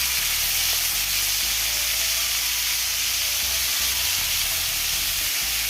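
Sliced onions sauté in a pan with a steady, loud broadband sizzle and hiss, a low stirring rumble running underneath throughout.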